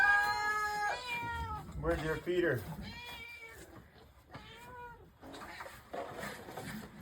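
Several cats meow repeatedly at feeding time on a bison ranch, close and overlapping in drawn-out rising and falling calls, while a person talks over them.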